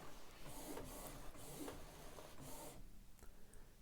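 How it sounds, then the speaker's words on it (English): A Canon Pixma TS9050 inkjet printer whirs and clicks, its print head sweeping back and forth in a few regular passes before the mechanical noise fades to a quieter hum. "Now he's drying the ink, and then after a second he will turn the paper and print the front side."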